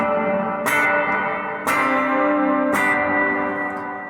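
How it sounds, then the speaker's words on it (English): Electric guitar strummed three times through a TC Electronic Hall of Fame Mini reverb pedal set to maximum, each chord ringing out into a long, lush hall reverb tail that fills the space between strums. "So I have the reverb signal maxed out here."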